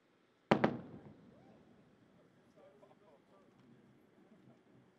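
A low-boom maneuver by a supersonic aircraft at about Mach 1.22 produces a sharp double thump, two quick close-spaced bangs that decay into a low rumble, followed by faint background murmur and voices.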